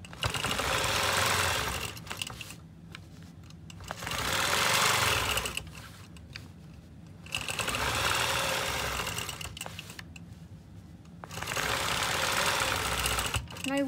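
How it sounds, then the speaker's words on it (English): A sewing machine quilting along a Circle2 ruler runs in loud, steady bursts of a few seconds each, stopping and restarting four times with short quiet pauses between runs. "So now I'm just gonna go back and quilt to my starting point."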